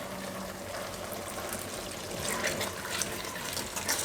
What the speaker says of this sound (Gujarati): થોડુંક પાણી તમે હજી એમાં નાખી શકો એમ